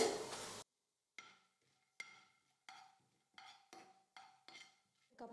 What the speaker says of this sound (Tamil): கடுகு நல்லா பொரிஞ்சதும் ஒன்றரை ஸ்பூன் கடலைப்பருப்பு சேர்த்துக்கிறேன்